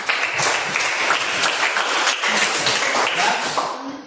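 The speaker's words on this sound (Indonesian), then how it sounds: "Sekali lagi kita berikan tepuk tangan untuk kita semua" A class of schoolchildren claps together in a lesson, a dense, fairly loud, continuous burst of applause that fades slightly at the end.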